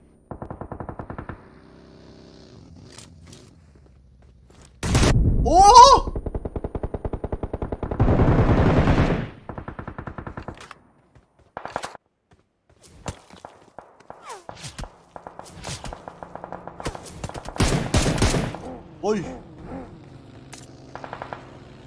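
Gunfire in the mobile battle royale game PUBG Mobile, loud bursts of automatic shots and single cracks mixed with footsteps and game effects, separated by quieter stretches, up close.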